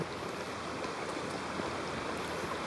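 Water in Sonoma Creek flows steadily, a soft continuous rushing and bubbling close by, with no voices over it.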